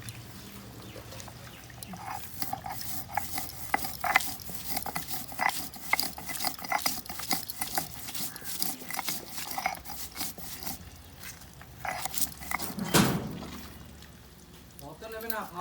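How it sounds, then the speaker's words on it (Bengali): Two cloves of garlic are ground by hand with ginger and spices, a rhythmic series of rough scraping and grinding strokes close by, repeating steadily and then pausing near the end. "এবার দুই কোয়া রসুন আদা মশলাটা বাটছি"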